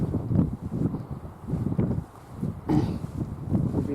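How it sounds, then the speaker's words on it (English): Gusty wind buffets the microphone on a wet Northumberland coast during June, with irregular low rumbling surges and brief lulls and no talking. "It's just going to be the wind"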